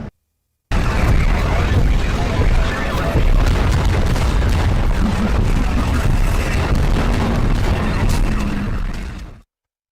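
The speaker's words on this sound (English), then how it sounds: "a giant metal face staring right at you, and the sound of charging weapons" A giant BattleTech mech, a towering metal war machine, charges its weapons with a loud, sustained roaring hum and dense crackling rumble that holds steady for about nine seconds before cutting off abruptly.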